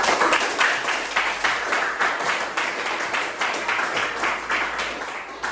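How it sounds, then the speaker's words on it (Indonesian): A classroom of pupils applauds during a biology lesson, a dense, fairly close burst of many hands clapping that holds steady for several seconds with only faint voices beneath. "beri tepuk tangan"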